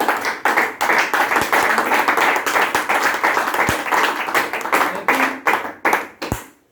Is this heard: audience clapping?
yes